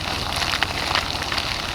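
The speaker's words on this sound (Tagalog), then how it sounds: "Ang lakas ng ulan sa Mindanao." Heavy rain pours in Mindanao, a dense, steady hiss of water with scattered heavier patters close by and no voices.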